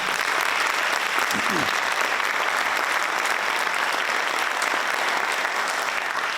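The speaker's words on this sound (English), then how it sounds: "So if we can, one more round of applause for them as well." Crowd at a school varsity jacket night applauds the booster club, a loud unbroken roar of clapping hands sustained evenly throughout, with a brief murmur of voices underneath.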